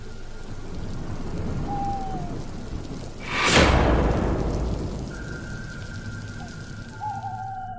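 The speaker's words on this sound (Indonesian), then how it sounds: "seketika hujan lebat pun tiba" Heavy rain pours steadily while a loud crack and rolling rumble of thunder bursts midway and fades, with a few faint chirps and tonal sounds over the downpour.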